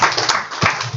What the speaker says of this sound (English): Can we have a round of applause for Satish Prabhu?